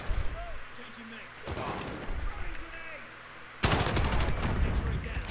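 Bursts of automatic gunfire and blasts in the shooter Call of Duty: Modern Warfare come in loud waves, with players talking over the shooting.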